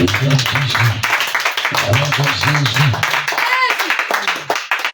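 A church congregation at a praise and thanksgiving service in Gagnoa claps loudly in steady, rhythmic bursts while a voice speaks over the applause.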